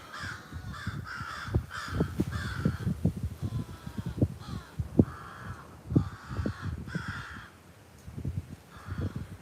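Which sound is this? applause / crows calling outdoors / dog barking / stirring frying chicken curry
crows calling outdoors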